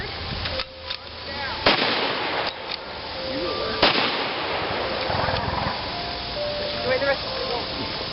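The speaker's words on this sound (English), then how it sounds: "so that's the K98" K98 bolt-action rifles fire at an outdoor German weapons demonstration, with several sharp, loud reports spaced out over a few seconds amid crowd noise and talk.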